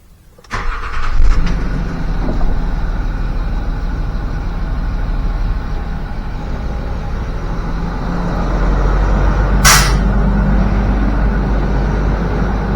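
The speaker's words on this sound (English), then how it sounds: "Sounds like it's running." Land Rover Discovery 3/4 air suspension compressor, an aftermarket unit on test, starting with a clunk and then running as a steady loud low mechanical hum that swells slightly later, with a brief hiss near the end.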